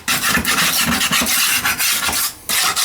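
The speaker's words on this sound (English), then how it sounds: "I'm gonna have to scrape that grout off" Grout being scraped off a bathroom floor during a toilet replacement, with a rapid series of close, loud rasping strokes and one brief pause near the end.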